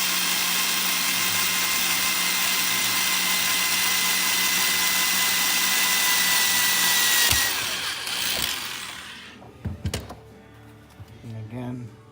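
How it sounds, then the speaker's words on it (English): A power drill drives screws into an RV skylight frame, buzzing steadily for several seconds, then stopping, followed by a few short knocks and handling sounds. "we're putting in screws so this thing doesn't move and shift on us"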